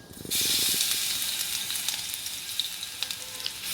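Curry leaves sautéing in hot oil for a Kerala-style potato beef curry give a steady, loud sizzle and crackle that starts abruptly and holds throughout, with occasional spits and pops.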